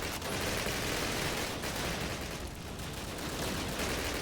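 Dense, unbroken gunfire from a Call of Duty battle defending a bridge, with overlapping bursts and rapid shots that sound loud and continuous for the whole stretch, with no talking over it.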